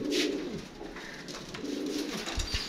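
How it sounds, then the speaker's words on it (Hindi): Lakha pigeons coo in a steady, low rolling murmur at close range, with a few soft wing or perch noises mixed in and no voices. "देख लें आपके सामने अलहदा से छोड़े हुए हैं कबूतर"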